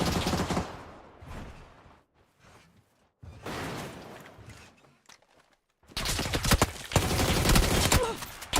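Bursts of rapid gunfire from PUBG in dense volleys, separated by quieter gaps, loud and close, with brief faint talk.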